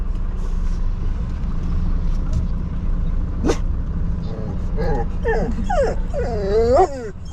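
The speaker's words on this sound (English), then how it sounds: "Hello, doggies." Several dogs in a pen whimper and yip in rising, wavering whines, growing busier toward the end, over a constant low engine rumble from a nearby vehicle.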